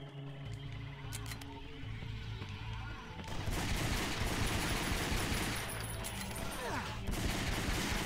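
Rapid gunfire in the PS2 game Ghost Hunter, a dense sustained burst of shots that starts suddenly and runs on under a busy background, fairly faint overall.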